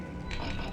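A grinding, ratcheting gate mechanism shuts in Hogwarts Legacy, a brief mechanical creak and clank rising over a steady low game rumble, moderately loud and with no speech.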